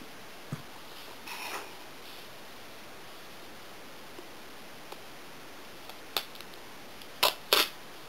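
Scissors cut a small piece of material for a bee-shaped wallet pocket, giving a few faint, scattered snips and rustles, with two sharper crisp cuts near the end over a quiet room hiss.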